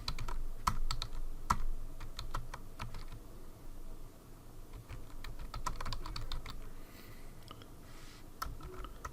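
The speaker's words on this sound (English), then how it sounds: "So I'm going to keep typing some more stuff." Typing on a computer keyboard while building a web page: close, uneven bursts of crisp key clicks with short pauses and a few louder keystrokes, continuing throughout.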